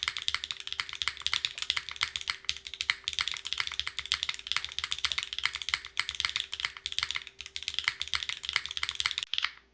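Fast, continuous typing on an Agar mechanical keyboard with an aluminum case, dense clacky keystrokes at close range with a faint steady hum beneath, stopping abruptly at the end.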